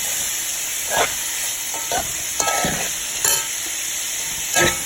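Rice and previously boiled butter beans being stirred in a pot on a high-heat stove, with steady sizzling and hissing under repeated spoon scrapes and knocks against the pot.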